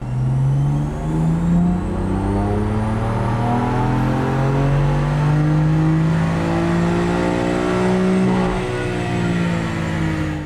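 BMW F82 M4 on a stock baseline pull, the engine note climbing steadily in pitch as it revs hard and loud, with a faint high whine rising alongside.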